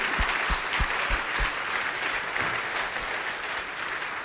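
A church congregation applauds during a sermon in a sustained round of dense clapping. A few low thumps, likely stamping or drum hits, sound early on before the clapping settles into an even roar.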